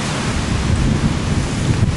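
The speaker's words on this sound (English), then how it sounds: "it is, as I say, very, very windy" Strong wind gusting across an open golf course, a loud, continuous low roar buffeting the microphone with no voices.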